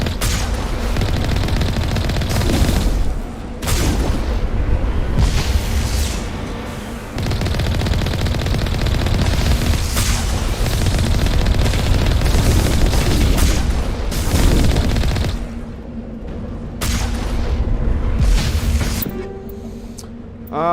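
Rapid weapon fire and heavy booms from rocket launchers in Mass Effect 1 Legendary Edition, near and loud, in dense overlapping bursts with brief lulls, no talking.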